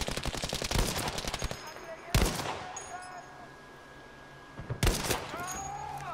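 Gunfire in a shooter video game: rapid automatic bursts rattling loudly, then two sharp, booming single shots with ringing tails, over a steady noisy game backdrop.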